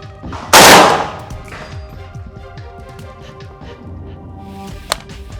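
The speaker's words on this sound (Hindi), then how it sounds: "सिंगल बर्स्ट, यानी कि एक बार में एक ही गोली।" An AK-203 rifle set to single fire sends out one loud, close gunshot with a short ringing decay, followed by a faint mechanical click a few seconds later.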